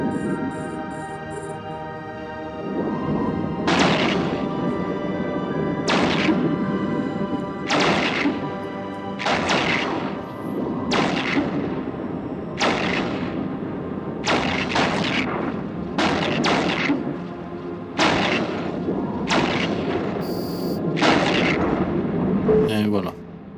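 Spaceship cannons fire in the space game Eve Online, sounding as a regular series of loud booming shots, about a dozen of them spaced a second or two apart over a steady ambient drone.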